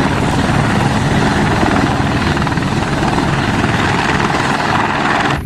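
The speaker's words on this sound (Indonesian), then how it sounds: "Ada helikopter berwarna oranye. Ini helikopter Basarnas." An orange Basarnas rescue helicopter roars with loud, steady rotor noise that fills the whole stretch close up, with no talking.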